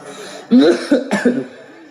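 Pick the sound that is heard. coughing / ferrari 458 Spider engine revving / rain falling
coughing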